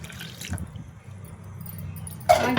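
Water is poured into a pot of thin holige sambar, heard as a short splashing rush near the end over a low, steady background rumble.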